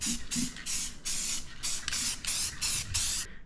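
Krylon paint-and-primer spray can hissing in a series of about eight short bursts, each roughly a third of a second, with brief gaps between them, close and fairly loud with no talk.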